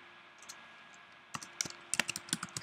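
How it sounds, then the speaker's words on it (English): Computer keyboard typing while entering names into a printable paper template: a quiet lead-in, then a run of crisp, close clicks in a steady, uneven patter for the last half. "Type in Ashley Regali and"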